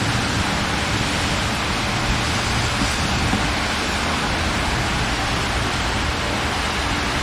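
Heavy rain pours down on a building site in Brazil, an unbroken, dense hiss that stays loud and even throughout with no voices.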